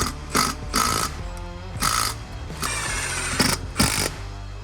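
Loud, whining bursts from a power driver driving 5/16 hex-drive self-drilling screws into sheet metal, several short runs and one longer one, with brief pauses between them.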